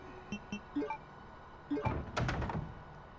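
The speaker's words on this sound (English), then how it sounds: "we're going to pick up this board here. And we're going to board this guy up." A window being boarded up in the Resident Evil 2 video game: a few light wooden knocks, then a cluster of heavier thunks and clattering hits, moderately loud and close.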